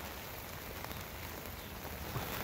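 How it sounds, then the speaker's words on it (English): Light, steady rain falls after a night and morning of rain, a soft even hiss of drops on a surface, faint and continuous with no talking. "it's still coming down okay, not real hard, but like I said, it's been raining all night and all morning"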